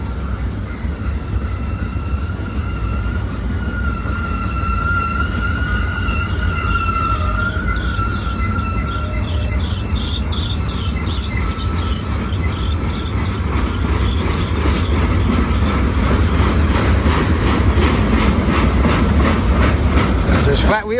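Union Pacific freight train rolling past at close range, a steady loud roar of wheels and cars with faint tonal squeals riding on top, continuing unbroken throughout.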